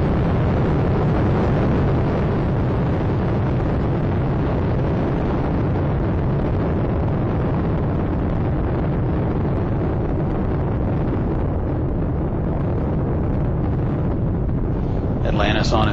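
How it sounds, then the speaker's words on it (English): Space Shuttle Atlantis on the STS-125 launch, three main engines roaring in a steady, dense broadband rumble that holds loud and unbroken throughout, with a faint voice in the background. "Atlantis on its way, all three engines now throttling down"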